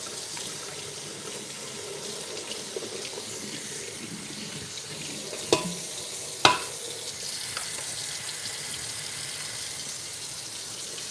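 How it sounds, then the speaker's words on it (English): Water runs steadily from a tap into a kitchen sink as a cooking pot is washed, with two sharp clanks of the pot against the basin partway through; no one speaks. "I'm just washing my pot, so sorry if I'm a little off camera"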